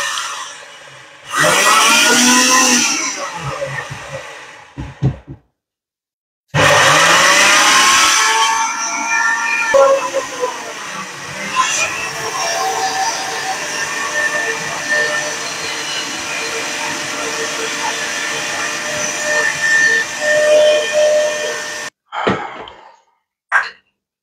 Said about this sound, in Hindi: अब उसके बाद मिक्सी में ऐसे ग्राइंड करना है।